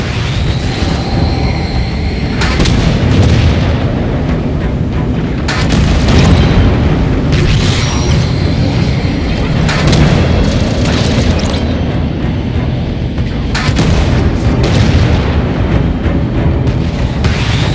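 Heavy weapons fire and repeated explosive booms pound at coolant pipes during a Halo 5 Guardians firefight, a loud continuous barrage of blasts and rumbling bursts with no pause.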